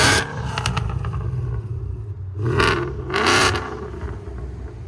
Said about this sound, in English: it gives you the true sound of the mufflers